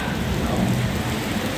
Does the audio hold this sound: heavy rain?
yes